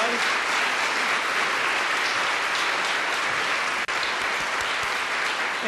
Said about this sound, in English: How about a round of applause for these kids who've done such a good job tonight?